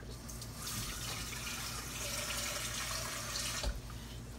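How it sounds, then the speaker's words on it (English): Tap water gushes steadily into a pot of black-eyed peas, a continuous loud splashing rush with no talk over it. "Put a little bit more water in here."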